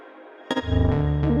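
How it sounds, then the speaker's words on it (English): A synth note hits abruptly after silence in Ableton Live 12, its bright reverb tail swelling and then cutting off sharply in a gated, pulsing way. "Gate voices is going to turn the actual voice down so you only hear the reverb."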